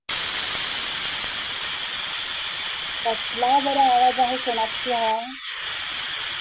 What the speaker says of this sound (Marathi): कुकरच्या शिट्टीचा आवाज आहे.